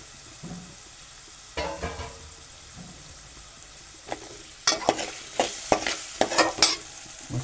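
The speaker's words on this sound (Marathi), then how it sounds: "टोमॅटो टाकून घेऊ." Tomato hits a hot pan with onions and fries under a soft sizzle, joined by a series of clanking spatula strokes that grow quicker and louder in the second half.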